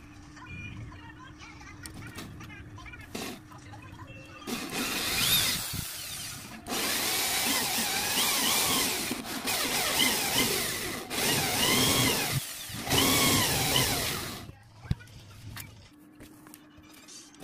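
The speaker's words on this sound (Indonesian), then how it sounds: "jadi biar tidak geser ketika dibor" A power drill bores into a car door panel while the door speaker is being cleaned of sand, whining loudly in two long bursts with short pauses and a quieter stretch of handling noise before and after.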